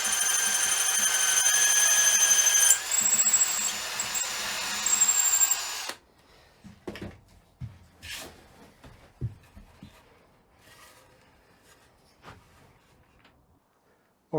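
Power drill boring through a Telecaster guitar body, a loud steady whine for about six seconds, then quiet with scattered knocks and handling clatter of the tool and workpiece.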